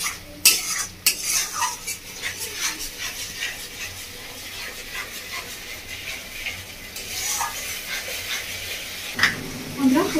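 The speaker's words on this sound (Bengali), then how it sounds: "টমেটো বাটাটা দিয়ে আরো ভালো করে 2 মিনিট মতো কষিয়ে নেব" Tomato paste with onion, ginger, garlic and chili sautéing in a pan for a Bengali village-style bhetki fish kalia, with a spoon scraping and clinking against the pan in uneven strokes under a low sizzle and occasional talking.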